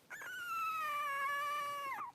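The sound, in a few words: three-week-old puppy howling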